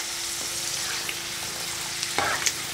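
Pork intestines frying with garlic in hot oil give off a steady, close sizzle that runs throughout, with a few louder crackles and pops near the end and no voices.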